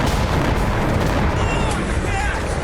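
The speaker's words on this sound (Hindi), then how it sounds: "हर धमाके की गूंज ज़ेलेंस्की के दिल को दहशत से भर दे" Dense, rumbling blasts and heavy booms of missile strikes in the Russia-Ukraine war roll together into a loud, continuous barrage of explosions.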